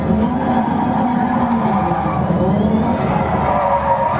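Rally car driven in the racing video game Dirt 2 with a steering wheel, a steady loud engine drone with tire skidding and gravelly road noise running continuously throughout, no talking.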